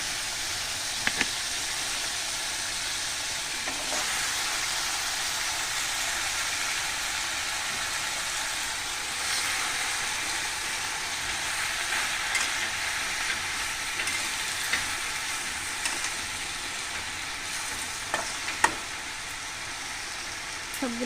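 Dried fish sizzles and fries in a pan with a steady, loud hiss that continues throughout, with a few sharp clanks of a spatula or utensil as greens go in and get stirred.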